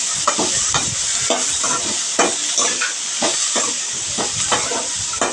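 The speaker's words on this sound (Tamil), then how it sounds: "இப்போது கொத்தமல்லி போட்டு நல்லா வதக்குங்க" Coriander leaves stir-fried in a pan while making coriander chutney: continuous close sizzling and hiss with repeated scraping stirs of a spatula at an uneven rhythm, no voices.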